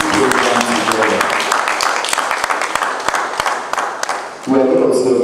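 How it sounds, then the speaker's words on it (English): A symposium audience at OOK Farms breaks into sustained applause, a dense crackle of many clapping hands lasting several seconds, with someone speaking just before it starts and again as it fades. "please give the management of OOK, led by Mr. Moraya, a round of applause"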